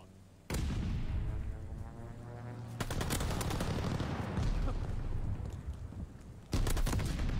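Air strike explosions rumble in a video game, a sudden roaring burst followed by sustained heavy rumbling, then a second loud burst near the end.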